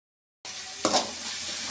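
After a moment of silence, tomato puree blended with coriander sizzles steadily in a pan, with one short stirring scrape near the start.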